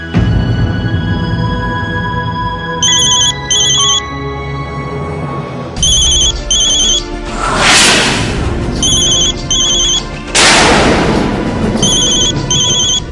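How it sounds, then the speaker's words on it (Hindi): A phone rings in repeated electronic trills, pairs of bursts with gaps, over loud dramatic music with booming hits; no talking. "किसका फोन है?"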